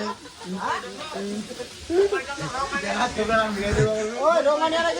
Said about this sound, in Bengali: এখানে দেখতে পাচ্ছেন মাছের ভাজা রান্না চলতেছে